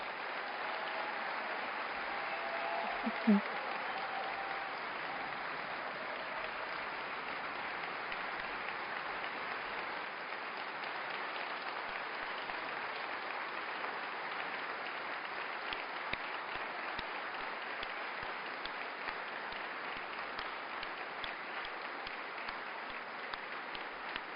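Applause from an audience at a presidential candidacy launch for António Filipe, a sustained, moderately distant wash of clapping that holds steady across the hall without break.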